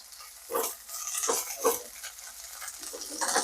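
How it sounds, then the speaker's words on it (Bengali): Okra fries in hot oil while a spatula scrapes and turns it in a few distinct strokes, each bringing a brief burst of sizzle over a quiet background. "ভেন্ডিগুলো ভালোভাবে ভেজে নেবেন, একদম লাল করে"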